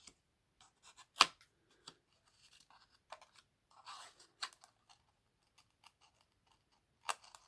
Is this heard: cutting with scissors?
yes